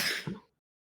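A single short sneeze bursts out close by and quickly fades into silence.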